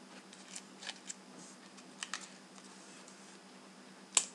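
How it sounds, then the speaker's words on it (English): Scissors snipping paper repeatedly while making cuts in a paper tube for a paper sniper rifle, heard as faint, close, irregular small snips with a louder click near the end, without talk. "You need to cut it many times."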